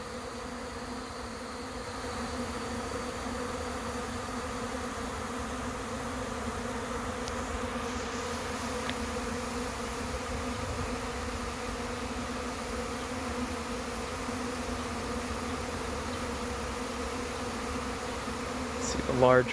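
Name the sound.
honeybee swarm buzzing at a trap entrance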